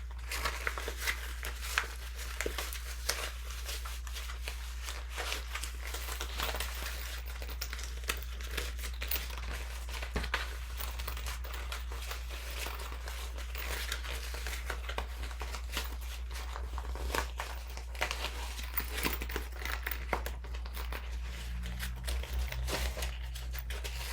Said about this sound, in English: Now we want to turn this right side out through the opening.